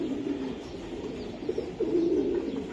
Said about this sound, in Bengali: রেস করা একটা কবুতর